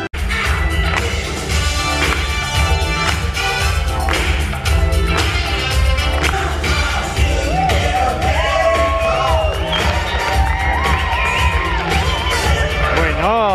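Loud, lively audience at a Movieland theme park show, cheering and whooping continuously over music with some applause, a dense crowd wash running throughout.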